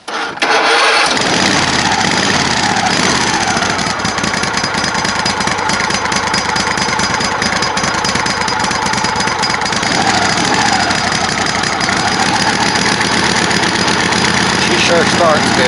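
A tractor engine cranks and catches, then settles into a loud, steady, rough idle that runs on without pause.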